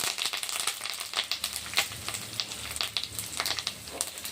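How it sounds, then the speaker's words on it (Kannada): Peanuts and chana dal fry in hot oil while a festive Ugadi meal is cooked at home. The close, steady sizzle is broken by bright crackles and pops. "ಶೇಂಗಾ ಬೀಜ ಮತ್ತು ಕಡಲೆಬೇಳೆ ಎರಡು ಫ್ರೈ ಆಗಿದೆ ಎಣ್ಣೆಯಲ್ಲಿ"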